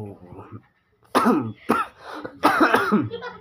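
Several harsh, chesty coughs in close succession, loud and near, after a brief quiet pause.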